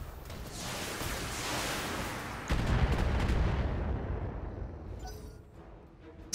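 Mech weapons in the BattleTech video game let off a sustained roaring volley that rises sharply partway through. The roar then fades out in a long rumbling decay, with no talk.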